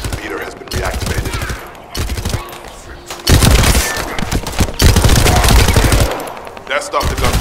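Heavy video game gunfire during a push toward a communications relay base: loud, rapid machine-gun bursts with sharp single shots, broken by brief pauses, continuing across the whole stretch.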